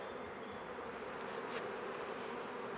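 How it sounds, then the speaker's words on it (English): Honeybee swarm fanning its wings at the entrance of a new hive, a soft, continuous insect hum close by with a steady buzzing texture and no voices. "They're on the front, spreading their wings, letting everybody know that they're inside."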